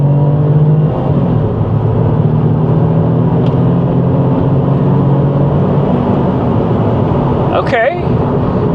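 A Saab 9-3 Aero is floored at full throttle, its engine droning loud and steady from inside the cabin, with a brief whooshing sweep near the end.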